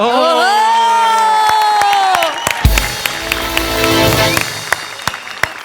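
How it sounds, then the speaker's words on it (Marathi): A studio audience at a Marathi comedy show breaks into cheering and applause after a long sustained sung or shouted note, with loud clapping, whoops and crowd noise swelling and a few sharp claps standing out. "आणि तुमच्या ह्या अद्भुत सादरीकरणाला मी उभा राहून टाळ्या वाजवतो"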